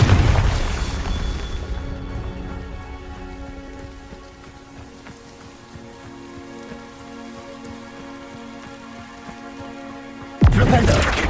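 A Confringo fire spell bursts in Hogwarts Legacy with a loud, broad blast at the start that rolls off into a long, fading rumble under a steady game ambience, ending in a sharp final crack.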